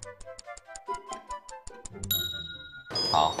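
A kitchen microwave oven ticks a quick, even rhythm as its timer counts down. It ends in a bright, sustained ding, followed by clattering kitchen noise.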